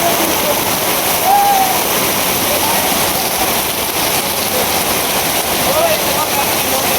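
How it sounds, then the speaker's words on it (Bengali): Heavy rain pours at night in a village, a loud, constant roaring hiss that fills the whole clip without a break. "হঠাৎ রাত্রেবেলা আপনার প্রচুর পরিমাণে বৃষ্টি শুরু হয়েছে আর কি, প্রচুর বৃষ্টি।"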